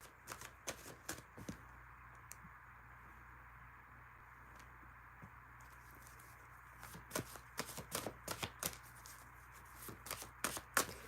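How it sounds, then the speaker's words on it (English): Tarot cards being shuffled and dealt make soft riffling bursts and quick flicks, quiet and close, clustering more densely toward the end. "I'm gonna throw out 2 more cards on each deck"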